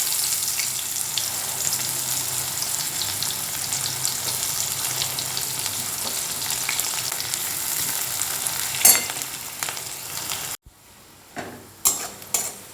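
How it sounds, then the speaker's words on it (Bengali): Onions hit hot oil seasoned with panch phoron, the same oil used to fry tilapia, giving a steady, close sizzle that cuts off abruptly near the end, followed by a few sharp utensil clinks. "5 ফোড়ন দেওয়ার পরে পেঁয়াজগুলো দিয়ে দেবো"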